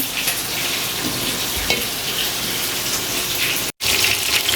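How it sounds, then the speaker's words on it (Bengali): Fish sizzles steadily in a frying pan, a continuous close crackling hiss with a brief cut near the end. "উস্তা ভাজি নামানোর পরে মাছ ভেজে নিতেছি।"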